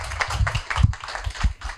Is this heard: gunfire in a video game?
no